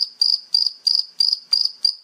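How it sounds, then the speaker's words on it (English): Crickets chirping as a sound effect, seven evenly spaced high-pitched trilling pulses, loud and isolated against silence. "Crickets."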